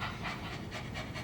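A person imitates a little dog panting, quick rhythmic breathy huffs repeated about four times in close succession, close and alone without speech.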